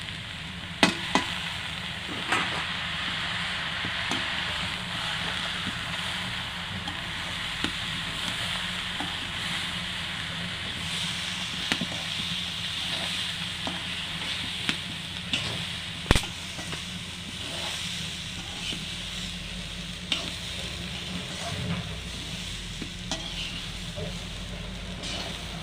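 Broken rice (khud) frying in a pan, a soft continuous sizzle heard close up, punctuated by sharp clicks and scrapes from a utensil stirring against the pan, with faint talk at times.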